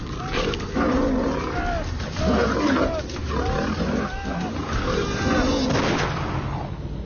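A lioness, locked in a struggle with a man, lets out a series of loud, close roars and snarls, several harsh bursts in a row over about seven seconds.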